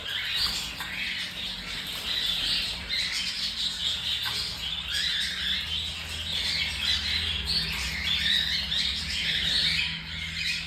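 Pet birds boxed and ready for shipping squawk and chirp continuously, a dense, bright chatter of many calls close by with faint rustling and no speech.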